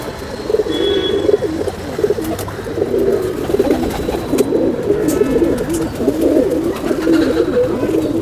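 Domestic pigeons cooing close by, with repeated low throaty calls overlapping in a continuous rolling chorus and faint chirps in the background.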